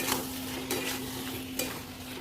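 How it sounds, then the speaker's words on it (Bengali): Taro stolons with shrimp in a spiced curry being stirred in a pan, three sharp scrapes and clinks of the utensil over a soft sizzle and a steady low electrical hum. "ভালো করে নেড়ে চেড়ে মিশিয়ে নেবো।"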